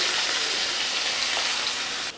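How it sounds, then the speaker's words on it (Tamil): Water goes into a pan of sizzling chilli-powder masala and sets off a loud, steady hiss of frying that fills the whole moment close up. The hiss ends abruptly at the finish. "தேவையான அளவு தண்ணி ஊற்றிக்கலாம்."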